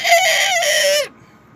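A man vocally imitates a young rooster learning to crow, a single loud, strained crow of about one second that cuts off abruptly, near and alone with no talk.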